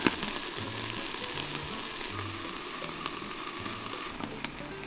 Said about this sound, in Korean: 와, 지글지글 맛있는 상추밥이 완성되었어요